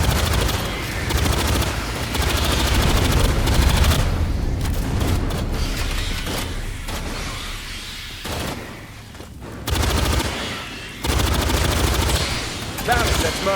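Sustained automatic gunfire and booming blasts from a squad firing on Xenomorphs in the video game Aliens: Fireteam Elite 2, loud and dense bursts with brief lulls, with voices calling out over the fighting.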